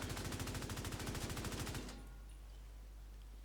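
Rapid automatic fire from the Bighorn rifle in The Division 2 video game, a loud steady burst of closely spaced shots for nearly two seconds, then cut off to a low background hum.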